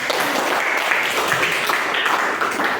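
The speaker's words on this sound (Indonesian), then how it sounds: "tepuk tangan untuk Alma" Students in a classroom clap for a classmate, a brief, even burst of many hands applauding at close range with no talk over it.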